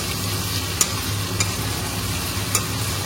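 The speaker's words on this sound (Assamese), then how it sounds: "পিঁয়াজৰ লগতে ভাজি ল'ম ধুনীয়াকৈ প্ৰায় 1 মিনিটমান সময় ধুনীয়াকৈ ভাজি ল'ম" Onion, ginger and garlic frying with spices in a wok, a steady low sizzle broken by a few sharp scrapes of stirring, close and fairly quiet, with no talk.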